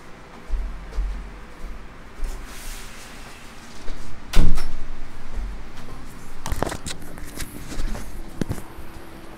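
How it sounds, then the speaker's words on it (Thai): A door is pulled shut against heavy rain, giving a couple of sharp knocks and thuds over a steady background of rainfall. "ขออภัยครับขอปิดประตูนึงเดี๋ยวเสียงมันดัง"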